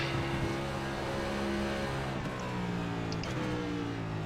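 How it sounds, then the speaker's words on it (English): A NASCAR Cup car in the iRacing sim on the Daytona road course roars past as a steady, loud engine drone with droning harmonics that dip and shift as it passes, alone without talk. "Oh, 9 car is gonna just blast up here now."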